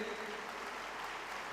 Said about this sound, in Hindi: एक बार जोरदार तालियों से स्वागत करेंगे।